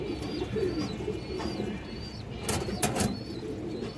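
Pigeons, including black Giribaz and high-quality hens, cooing close by in a loft or pen, low rolling coos repeating under scattered chirps, with a couple of sharp wing flaps or clatters near the middle.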